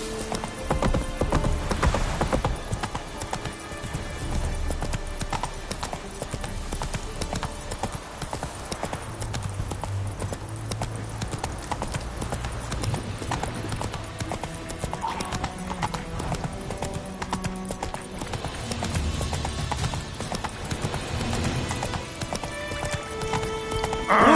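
Roach, a horse in The Witcher 3, gallops with rapid rhythmic hoofbeats and occasional whinnies, set among game ambience with voices speaking at moments.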